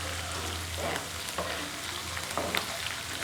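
Tempering spices with green onion and green chillies sizzle steadily in hot oil for a daal tadka, a continuous close frying hiss with a few brief crackles and stirring sounds, no talking.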